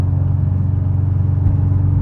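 Steady low engine drone of a car with a newly fitted 6-speed drivetrain cruising at speed, a continuous near rumble with a faint whir and no talk.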